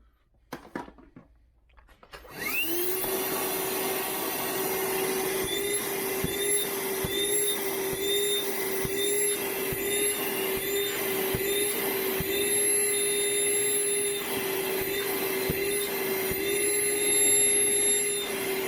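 A Hart 20v cordless 2.5 gallon shop vac spins up after a brief rustle and then runs continuously, a loud steady whine with a high tonal motor pitch and slight fluctuations, close by.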